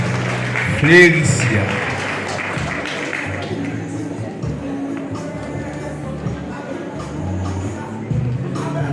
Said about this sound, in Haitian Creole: Applaudissez, mesdames, messieurs